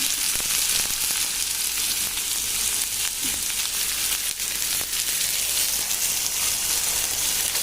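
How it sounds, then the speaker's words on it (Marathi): Finely chopped onion, about one medium-sized, frying in oil with mustard seeds for a dry spicy cluster bean dish: a steady, dense, loud sizzle and crackle that holds evenly throughout, with no voices. "आता हा छान भाजून घ्यायचा तेलामध्ये"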